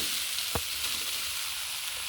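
Beetroot rice being stirred in a frying pan, a steady soft sizzle with one clear scrape of the spoon against the pan partway through.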